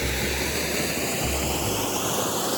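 Steady rushing water roars continuously at a small waterfall on the Niobrara River in Nebraska, a broad, even wash of noise close by.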